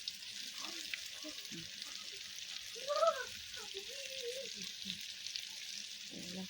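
Pieces of food, chicken leg pieces among them, frying one by one in a pan at a home picnic, with a soft continuous sizzle and a brief voice or squeal near the middle.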